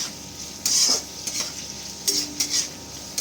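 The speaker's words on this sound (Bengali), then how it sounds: "তারপর সব ভেজিসগুলোকে একসাথে মিশিয়ে নিতে হবে ভালো করে।" Mixed vegetables with beans being stir-fried for veg chowmein, loud spatula scrapes and clatters in the pan over a steady sizzle, coming in several short bursts.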